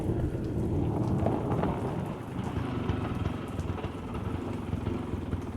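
A thunderstorm with heavy rain: a loud, continuous wash of rainfall with deep rolling thunder underneath, strongest in the first seconds and then steady, with no speech.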